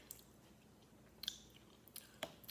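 Soft, quiet chewing of an Indian street snack containing coconut, with a few crunchy bites and moist mouth sounds spread across a close, otherwise hushed moment.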